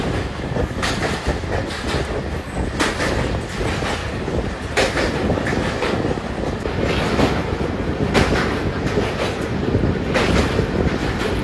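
The 22890 Puri–Digha Samudra Kanya express runs at night with a steady rumble and repeated clickety-clack of wheels over rail joints, loud and continuous from inside the coach.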